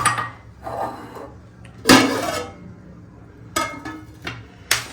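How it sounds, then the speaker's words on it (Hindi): A metal spoon clinks and scrapes against dishes in a home kitchen, with a louder clatter near the middle and a few sharp taps toward the end, close and unhurried. "अब लेता हूँ चम्मच, स्पून जिसे स्पून कहते हैं"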